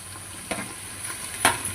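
Soft, steady sizzling of onions and spices frying in a pan for gongura biryani, with a few brief scraping stirs; no voices.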